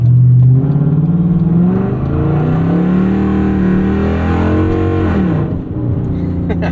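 A Hemi V8 in a Dodge Charger Ute accelerating hard, loud and close, the engine note rising steadily through the revs before easing off near the end.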